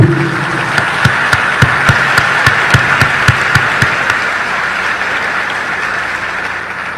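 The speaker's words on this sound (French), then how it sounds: "On encourage le monde de bien avec un gros applaudissement de solidarité" Audience applause of solidarity at a gathering, a dense wash of clapping that holds steady for about seven seconds, with a rhythmic run of sharp unison claps near the start before settling into a steady roar.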